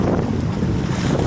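Strong wind buffets the microphone over open water near Daytona Beach with light whitecaps, a continuous rushing roar with the wash of waves underneath.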